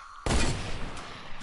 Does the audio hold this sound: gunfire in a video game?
yes